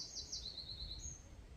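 Small birds sing around a budget hammock camp in woodland, bright chirping phrases and high whistled notes repeating at a moderate distance over quiet background hiss, with no talking.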